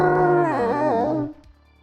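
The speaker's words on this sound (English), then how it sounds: "let out one last howl" A single drawn-out dog howl, rising and wavering before fading away after about a second.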